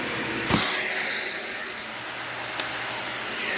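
A Dyson Ball Animal 3 vacuum cleaner runs on carpet, reaching under furniture with a loud, steady, close roar and hiss, plus a brief bump and a few clicks.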